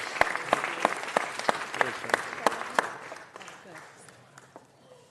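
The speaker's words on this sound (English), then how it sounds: "So let's give them a round of applause" Applause from an audience at a city council meeting, with individual claps distinct and fairly close, rising quickly and then thinning out over a few seconds as it fades away.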